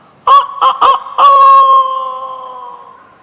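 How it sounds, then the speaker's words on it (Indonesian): A rooster crows nearby: a loud, clear crow in a few quick staccato bursts, then one long drawn-out note that fades away, with no talk. "engkau perdengarkan suara ayam berkokok"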